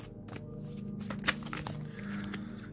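A deck of cards is shuffled by hand, giving soft rapid riffling and flicking close up, with a sharp snap near the middle, under a faint steady background hum.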